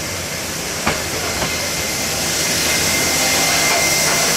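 A metre gauge Pandian Express train pulls out of Kodaikanal Road station in 1992 with a steady, loud rumble and hiss, marked by a couple of sharp clanks early on.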